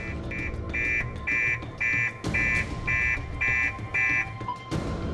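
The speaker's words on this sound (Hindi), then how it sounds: "चोरी के दौरान ही कार में लगा एंटी थेफ्ट अलार्म बज जाता है।" Car anti-theft alarm blaring in a street, a loud repeating electronic tone pulsing in about nine even bursts with short gaps, no talk over it.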